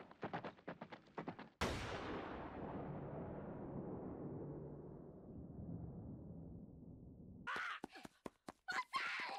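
A single sharp gunshot from a One Piece anime episode cracks loudly, then a long decaying rumble rings out for several seconds before quick clicking sounds follow.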